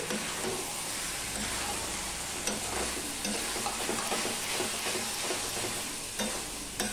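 Sour dal and okra with garam masala and a little sugar being stirred in a hot pan, a dense continuous sizzle broken by rhythmic scraping strokes, close and alone.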